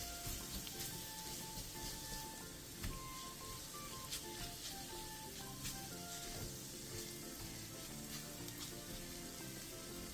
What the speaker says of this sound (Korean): 팬에 기름을 두른 뒤 반죽을 올려 얇게 펼쳐주고 중약불에서 붙여주세요.